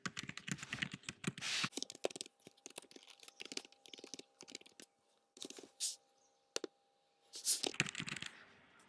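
Typing on a computer keyboard of an iMac or MacBook comes in close, crisp bursts of key clicks, broken by short pauses and near-silent gaps, with no talking.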